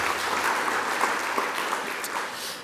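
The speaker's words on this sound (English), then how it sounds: "maybe we just like to give them all a round of applause for the big," A conference audience claps for a round of applause, a dense, even wash of clapping that holds steady throughout with no talk over it.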